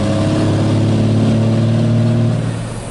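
A Cummins 12-valve diesel truck engine pulls hard with the torque converter lockup engaged, a loud, steady, droning roar heard from inside the cab that holds its pitch before easing off at the end.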